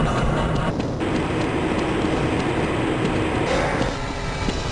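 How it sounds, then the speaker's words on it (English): A Black Mesa tram from Half-Life: Blue Shift rolls steadily along its rail with a continuous rumbling hum and faint rhythmic clicks, heard alone and fairly close. "This train is inbound from the Area 8 topside dormitories to the Central Transit Hub in Area 9"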